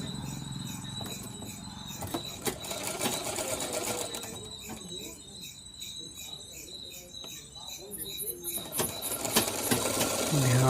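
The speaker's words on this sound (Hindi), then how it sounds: "ध्यान से देखे इस प्रकार सिलाई करते हैं।" A sewing machine stitching a katori blouse runs in quick bursts, its fast ticking rhythm fairly close and moderately loud, pausing and restarting, while a voice talks over it.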